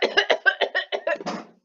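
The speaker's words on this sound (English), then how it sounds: "Coughing so hard my phone fell." A person coughs hard in a rapid fit of about nine harsh, close bursts over under two seconds, the last one dragging out raspy and trailing off.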